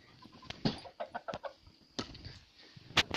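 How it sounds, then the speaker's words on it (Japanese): Several chickens cluck in short, separate bursts in a snowy winter coop on a natural poultry farm, fairly close and clear, with one sharper squawk near the end. "で、ニワトリちゃんたち、"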